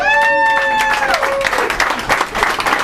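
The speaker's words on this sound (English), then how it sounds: "After you drink, another round of applause." Applause at a farewell event, a short burst of clapping from a small crowd, fairly close and mixed with voices.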